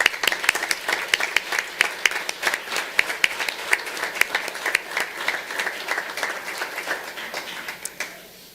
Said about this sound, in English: these four deserve another round of applause for all their efforts.